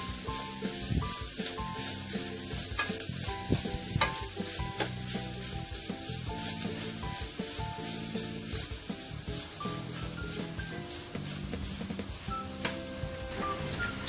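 Grated carrot frying in a pan with ragi flour, a steady sizzle with repeated scraping and stirring strokes of a spatula, close and moderately loud, no talking.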